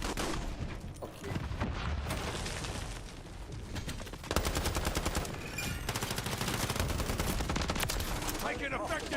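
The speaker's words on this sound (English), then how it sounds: "Taking effective fire!" Rapid bursts of automatic gunfire and explosions from a multiplayer first-person shooter match in XDefiant or Modern Warfare III, dense and continuous near the listener, with brief game voice lines mixed in.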